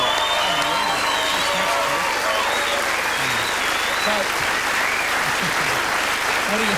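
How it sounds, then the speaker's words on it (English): Studio audience applauding a guest on a Newcastle Knights rugby league show in 2003, a loud, steady wash of clapping with some cheering and voices talking over it. "Give him another round of applause."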